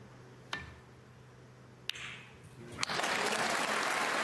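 A snooker crowd at the 2023 Northern Ireland Open final sits quiet apart from a few isolated taps, then breaks into sustained, full applause that carries through to the end.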